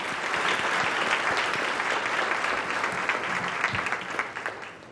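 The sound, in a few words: audience applause at a forum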